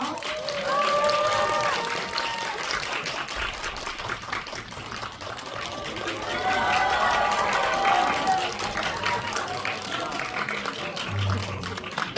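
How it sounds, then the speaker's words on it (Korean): An audience at a film stage greeting applauds the director and actors arriving, steady clapping and crowd noise with voices mixed through it, swelling midway and continuing throughout. "큰 박수로 맞이해 주세요."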